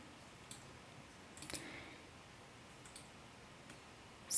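Computer mouse clicks while building a 3D die in Tinkercad, a few faint, sparse taps spaced a second or so apart over a quiet background.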